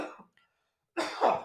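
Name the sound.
cough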